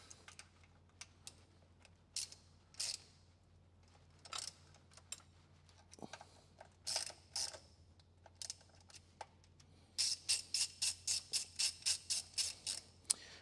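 Ratchet or wrench work on bolts on a 1980 Falcon with a 351 engine: quiet sparse clicks and short bursts of ratcheting, ending in a quick run of about a dozen evenly spaced clicks, close by and without talk.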